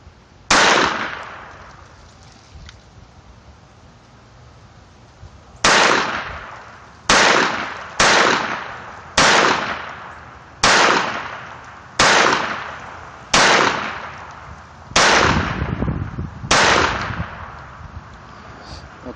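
Sharp reports from a Walther P22 pistol: a lone shot, then a rapid string of about nine evenly spaced cracks, each loud and close with a short decaying echo, over quiet outdoor background.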